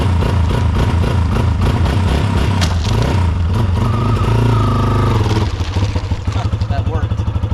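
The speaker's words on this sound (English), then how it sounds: "I just revved it up higher and kicked it in gear." A Yamaha XT250 motorcycle engine with a stuck clutch revs loudly and close up, rising and holding in a harsh roar before dropping into a rapid, pulsing idle-like chug as it is kicked into gear.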